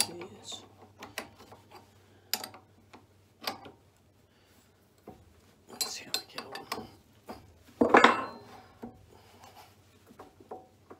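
A wood lathe chuck being tightened for turning a small bowl, with scattered clicking ratchet and metallic clatter in short bursts and pauses, loudest around the middle, alongside faint speech.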